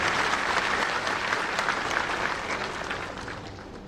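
Dense audience applause at a Bihar Day ceremony, loud and sustained from start to finish, slowly fading toward the end with no talk on top.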